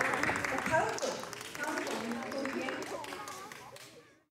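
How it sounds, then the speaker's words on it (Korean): Children applaud in an elementary school classroom after a classmate presents her idea for a school playground design, a dense, steady patter of clapping with some voices mixed in that fades out toward the end. "박수 쳐주세요."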